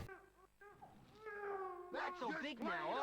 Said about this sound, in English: In Bully, you can hear the sound of a baby crying coming from one of the buildings in New Coventry.